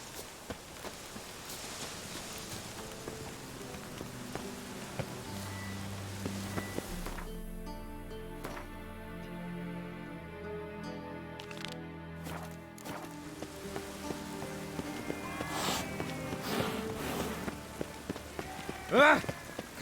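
Steady rain falls in The Witcher 3 game, a soft continuous patter with occasional heavier drops, mixed under game music and speech.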